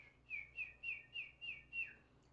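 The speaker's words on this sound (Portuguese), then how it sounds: "O juruti, por exemplo" Juruti dove call: six soft, evenly spaced whistled hoots in a steady rhythm, faint and alone.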